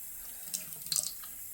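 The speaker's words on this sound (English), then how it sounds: "you'll want to dump it out and then rinse it out before you put in new water" Tap water briefly runs and splashes while a hamster's water dish is rinsed in a sink, a few quiet spattering bursts against steady faint hiss.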